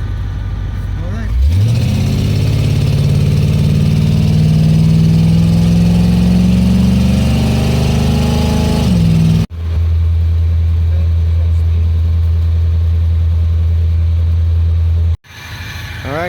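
A 1972 Chevrolet Monte Carlo A-body car, just revived after years off the road, drives along with its engine droning steadily and swelling under acceleration before the note drops and shifts, heard loud and close from inside the car.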